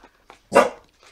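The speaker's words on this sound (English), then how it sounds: "that's my dog going to have a bark at something outside." A single loud dog bark in the middle, with a couple of faint yips before and after it, heard indoors from a short distance.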